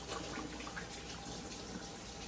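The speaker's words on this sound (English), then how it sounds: "I'm gonna give my hands a quick wash" A kitchen tap runs steadily while hands are washed beneath it, a soft, even splashing of water with no voices.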